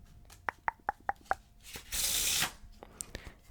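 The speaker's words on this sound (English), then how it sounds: "we'll give it all kinds of shuffles and a good mix up basically" A deck of playing cards is handled close up and quiet: a quick run of five crisp taps, then a dense whirring riffle lasting about half a second, followed by a few softer clicks.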